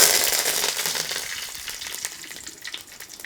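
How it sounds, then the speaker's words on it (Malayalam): Curry leaves dropped into hot oil in a pan on low flame crackle and hiss, a bright burst of sizzling up close that gradually settles into a softer spatter. "ഇനി അടുത്തായിട്ട് നമ്മുടെ കറിവേപ്പില കുറച്ചിട്ട് കൊടുക്കാം."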